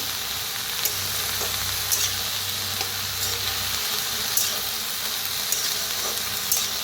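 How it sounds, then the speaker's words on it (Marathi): Green peas roasting in a pan over a wood-fired stove, cooked for a village-style mixed vegetable dish. A steady close sizzle runs throughout, with light stirring clicks at intervals and no talking. "आता ह्याच्यातच टाकूया मटर बी त्याला भाजून घेऊया"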